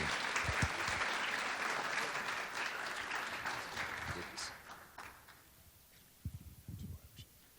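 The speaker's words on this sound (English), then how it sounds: "Will you give him a round of applause as he comes to greet us on this special day?" Crowd applause welcoming a mayor at a Martin Luther King Jr. Day gathering, fairly quiet and distant, fading after about five seconds as voices and scattered sounds take over.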